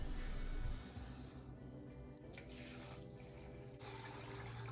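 Tap water runs and hisses steadily into a sink while masoor and moong lentils are washed for dal, heard fairly faint and close, with small shifts in the flow.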